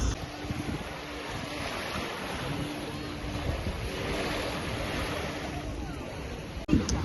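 Waves wash in at Golden Bay beach in Malta, a broad steady surf hiss mixed with gusty wind buffeting the microphone, ending in a sudden bump.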